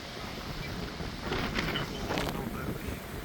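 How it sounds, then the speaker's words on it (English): Strong gusting wind buffets the microphone in a steady broadband roar, swelling in two louder surges, with no voices heard. "This wind is so strong. I hope it's not screwing up the recording."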